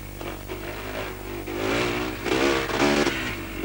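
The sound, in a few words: car engine revving while driving on rutted track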